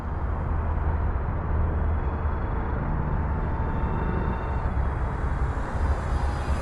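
An Xfly SU-57 radio-controlled jet with twin 40mm electric ducted fans flies at about half throttle, making a steady, dense whooshing whine that stays loud and even throughout with no talking.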